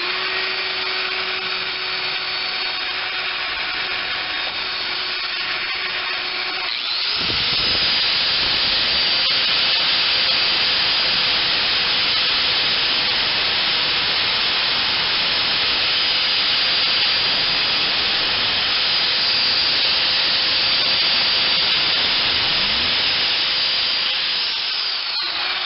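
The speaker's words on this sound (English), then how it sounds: "So I'll crank up the lathe here again." A lathe runs with a steady loud whine and hiss while rounding the head of a bolt, then rises into a fuller continuous grinding roar as the cut proceeds, unbroken to the end.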